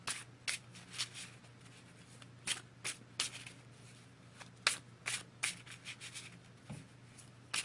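Tarot cards are shuffled in repeated soft riffles and slaps, irregular bursts of crisp papery rustle close by at low volume, with no talking.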